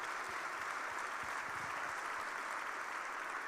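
Audience applause at a Carmel, Indiana State of the City 2025 address: a steady, dense wash of clapping from a large crowd, sustained evenly throughout with no speech over it.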